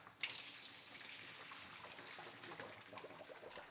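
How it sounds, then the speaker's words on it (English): Cold tap water pours over cooked cauliflower in a kitchen sink as a steady, soft hiss and splash, fairly faint and alone. "So I'm just running some cold water over the cauliflower to stop the cooking process"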